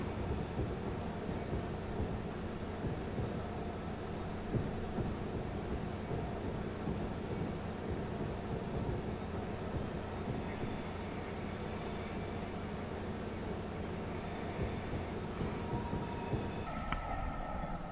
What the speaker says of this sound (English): that TGV locomotive just isn't flying